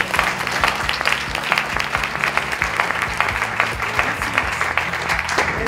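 A school education event audience claps continuously over low music or hum, the dense patter steady and moderately loud throughout.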